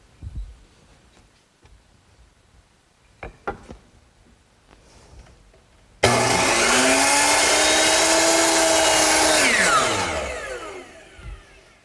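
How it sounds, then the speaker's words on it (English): A power saw at a miter box cuts wood for a standing mirror frame. After a few light knocks and handling sounds, the motor whines up sharply, runs loud and steady for about four seconds, then spins down. "Now the cut will be 90 degrees to this face, and I'll make it at the miter box."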